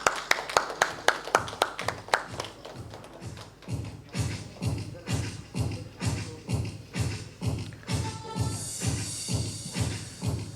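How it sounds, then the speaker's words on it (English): Applause from a panel discussion audience at a sustainable packaging event, starting as sharp separate claps and settling into a steady, rhythmic beat of clapping, fairly close. "Let's give him a huge round of applause, everyone."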